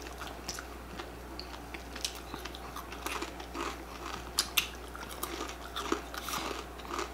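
Close, quiet crunching of crispy fried pork chicharron being bitten and chewed, irregular crisp snaps and crackles repeating over a low hum, with no talk.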